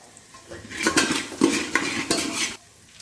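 Mutton curry masala being stirred and mixed in a metal pot, with repeated scraping strokes and clanks of a spoon against the vessel over a light sizzle, close and rhythmic for a few seconds.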